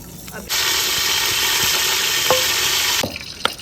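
Ghee heating in a cooking pot for chicken karahi hisses in a steady, loud, broad sizzle for about two and a half seconds, with faint clinks before and after.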